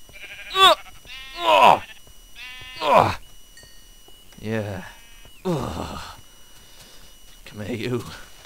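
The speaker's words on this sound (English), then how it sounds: "If I kill this sheep" Sheep bleating in a video game: roughly six loud, nasal bleats at irregular intervals, each call short and wavering, with quiet gaps between them.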